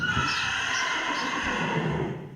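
Horse at a horse center whinnying in one long, shaky neigh that runs for about two seconds, loud and near, fading out at the end.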